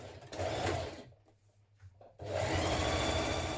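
A sewing machine stitches a 1.5 centimetre seam on a hoodie hood in two close, steady whirring runs, split by a short quiet pause with a few soft clicks.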